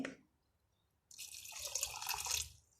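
Water pours steadily into a pot of chana dal with spices, a soft splashing trickle that starts abruptly after a brief quiet moment.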